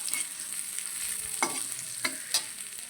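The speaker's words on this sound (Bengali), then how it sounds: "দেখো এখানে পেঁয়াজ লঙ্কাটা ভাজা হয়ে গেছে। এটা এবারে ছোলা আলু দিয়ে আমি নেড়ে নেব" Fried onion and chili with chickpeas and potato stirred in a pan: a constant bright sizzle broken by a few distinct spatula scrapes at irregular intervals, with no voices.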